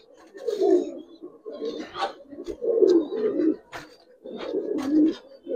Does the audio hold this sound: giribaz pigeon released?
yes